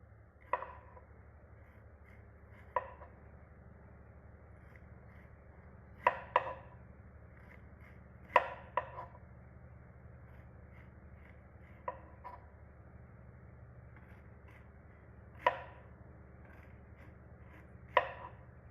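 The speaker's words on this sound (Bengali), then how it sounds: "এবার আমি সুন্দর করে কেটে নেব" Starfruit is cut on a board for pickle, giving about a dozen sharp knife knocks at irregular intervals, some in quick pairs, close up with no talking.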